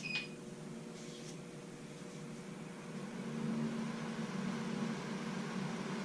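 A steady low mechanical hum of a Wen 3410 three-speed woodshop air filtration unit starting on low speed, with a brief beep at the start and the airflow rising slightly partway through.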